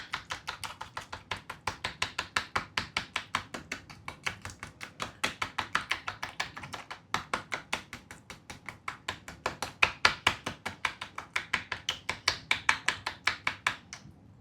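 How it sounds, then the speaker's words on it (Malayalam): Honey and fresh cream are mixed in a bowl, with a fast, regular series of crisp taps from a whisk or spoon striking the bowl, close and steady with short pauses, no voices. "ഹണിയും ക്രീമുമായിട്ട് നല്ലോണം മിക്സ് ചെയ്യാം"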